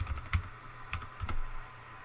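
A password is typed on a computer keyboard, producing a quick, light run of soft key clicks that are close and quiet, with no voices.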